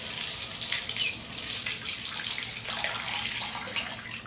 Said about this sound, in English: Now we'll just bleed the water off.